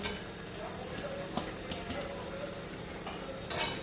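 A spoon stirs red-carrot halwa with cardamom powder and ghee in a pan, making soft scraping and scattered light clinks over a low, steady background hiss.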